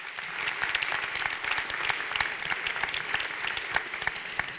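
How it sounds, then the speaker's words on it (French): An audience claps loudly for three invited panelists at a French health-care discussion, a dense, even burst of many hands sustained throughout without any voices over it. "Je vais vous demander d'applaudir bien fort, s'il vous plaît"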